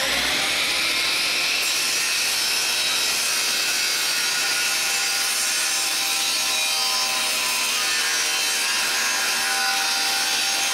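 A table saw rips a wooden board lengthwise for a beehive frame, a loud, steady high-pitched whine of blade cutting through wood that continues without a break and without voices.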